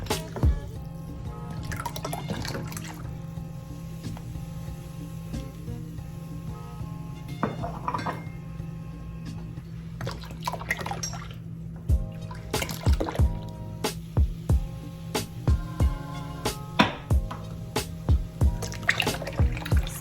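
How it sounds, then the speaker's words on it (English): Guinness stout poured for a Jamaican carrot juice with Supligen, giving soft drips and liquid splashes alongside clinks of glass and kitchenware, with a steady low hum underneath and sharper clatters toward the end. "pouring my Guinness."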